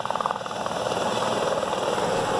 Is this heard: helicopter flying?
yes